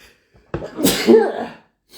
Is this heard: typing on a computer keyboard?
no